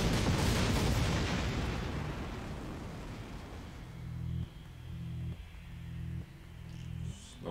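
Cannon volley firing in the Attack on Titan anime: a loud, dense roar of blasts fills the opening seconds, then rumbles away under a rhythmic low pulsing beat.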